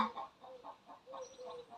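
Faint chickens clucking in a quick, uneven series of short calls from a distance, with no voices over them.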